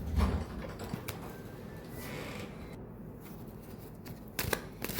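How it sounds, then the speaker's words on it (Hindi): Tarot cards being shuffled by hand, a soft, continuous riffling and sliding of the deck close by, with a few sharper snaps near the end. "मैं जब तक कार्ड शफल कर रही हूँ"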